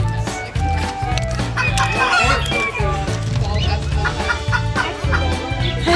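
A rooster crows amid clucking hens at a zoo, with a steady, busy background and people talking nearby; the crowing is partly buried in the general noise.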